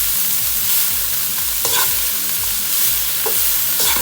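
A spoon stirs sprouted green lentil salad with spices in a bowl, giving a continuous scraping rhythm with sharper clicks now and then, loud and close with no talking.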